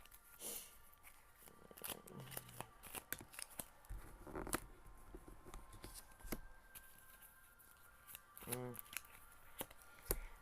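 Tarot cards are shuffled and drawn in close, quiet bursts of riffling and slapping, with soft scattered taps and pauses between handfuls.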